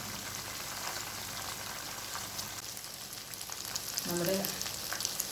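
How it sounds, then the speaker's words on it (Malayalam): KFC-style chicken deep frying in oil on a low flame gives a steady, close, even sizzle throughout, with a brief spoken word and a short clink near the end. "എപ്പോഴും ലോ ഫ്ലെയിമിലിട്ടിട്ട് വറുത്തെടുക്കണം"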